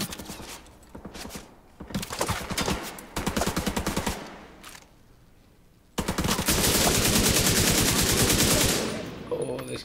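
Video-game gunfire from a hard-recoiling gun, heard as loud bursts of rapid automatic shots with short pauses between them, then one long sustained volley that runs to the end.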